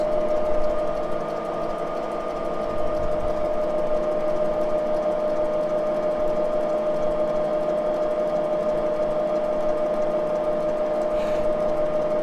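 A Moore jig boring machine with a Wohlhaupter boring head cuts vintage Harley-Davidson engine crankcases, giving a steady, close mechanical hum with a sustained tonal whine that runs unbroken throughout, no voices over it.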